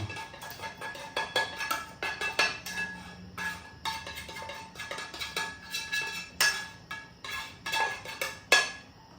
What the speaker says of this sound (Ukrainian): І з цією зажарочкою теж перемішую